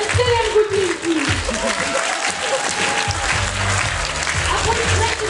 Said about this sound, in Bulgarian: Аплодисменти за нашите танцори на 7 годинки!